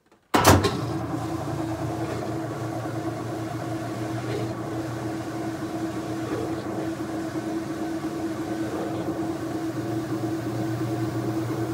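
A 1996 Whirlpool direct drive washing machine spins up after a sharp start, settling into a steady droning hum and rumble that holds close and even to the end.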